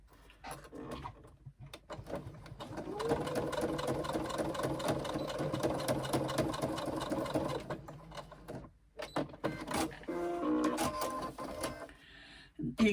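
A sewing machine bastes a seam on a Crossroads backpack, running in a fast, steady close-up whir for about five seconds, then pausing and starting again in shorter bursts.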